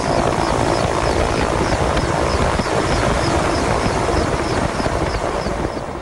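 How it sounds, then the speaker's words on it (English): An Air Force Mi-17 helicopter hovers overhead during flood rescue operations near Trivandrum, Kerala, its loud, steady rotor roar and engine drone filling the scene without letup. "The Air Force's Mi-17 chopper is now hovering."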